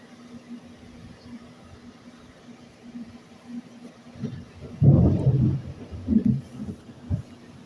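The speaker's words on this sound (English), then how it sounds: "there's a severe thunderstorm going on right now" Low rumbling thunder from a severe thunderstorm, a quiet steady background swelling into a louder, deep rolling burst midway with a few further rumbles after, heard from indoors and distant.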